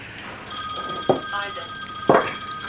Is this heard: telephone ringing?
yes